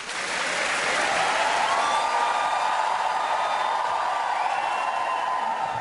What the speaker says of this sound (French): J'ai l'impression que c'est les mecs qui ont applaudi, je sais pas pourquoi.